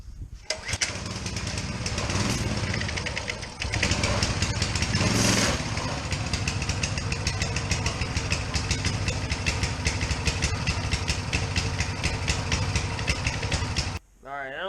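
A Coleman CT200U mini bike engine with a freshly cleaned carburetor is pulled over and starts with the choke on, then runs at a loud, steady putter up close before cutting off near the end.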